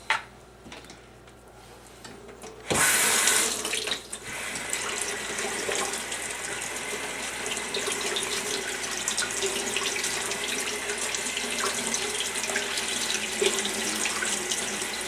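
Tap water runs steadily into a sink while squirrel meat is rinsed under it, a close, continuous splashing gush that starts abruptly after a brief quieter moment and then holds.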